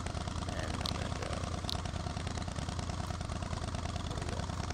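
A vehicle engine idles in the Second Life video game, a steady, continuous mid-to-low rumble held at an even level throughout, with no talk over it.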